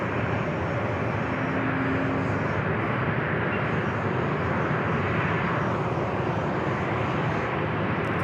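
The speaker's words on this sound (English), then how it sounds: "This is the flight heading to Fort Lauderdale, Florida, 737 at 900 ER with Alaska" An Alaska Airlines Boeing 737-900ER bound for Fort Lauderdale roars steadily at San Diego airport, a loud, continuous broadband jet-engine rush that holds near and constant without a break.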